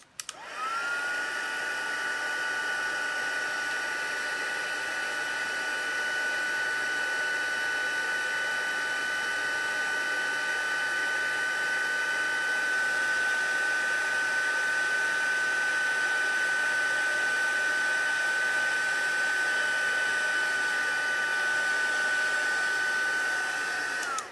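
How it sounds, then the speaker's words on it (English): A heat tool blows steadily with a loud, constant whooshing hum and a high whine, running without pause for the whole stretch. "Grab your embossing tool and zap it. It's going to get noisy."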